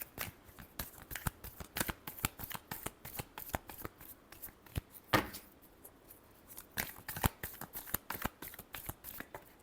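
Tarot cards being shuffled by hand, a steady run of crisp, close riffling snaps and flicks repeating in quick bursts, quiet and alone.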